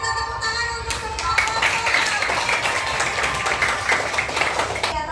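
Classroom applause for all the student groups, a broad wash of many hands clapping steadily for about five seconds, moderately loud with faint voices mixed in.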